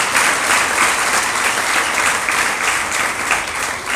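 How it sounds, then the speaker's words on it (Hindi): Steady applause from an audience at a Jain sermon on celibacy in household life, continuous and fairly loud for the full stretch with no break and no speech over it. "अच्छे से ताली बजाओ"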